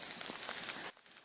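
Torrential rain pours in the aftermath of the Wayanad landslides in Kerala as a loud, dense, steady hiss that drops away abruptly near the end.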